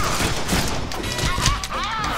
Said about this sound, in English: You guys saw how I actually managed to shoot that guy running at me, right?